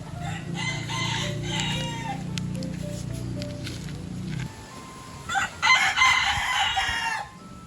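Several chickens cluck and a rooster crows close by, with a steady low hum underneath for the first half and a burst of louder crowing near the end.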